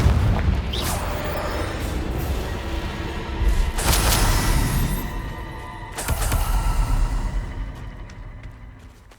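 Spell explosions from the video game Hogwarts Legacy: loud booming blasts and bursts in quick succession, with heavy impacts near the start, around four seconds and again near six seconds, each followed by rumbling decay.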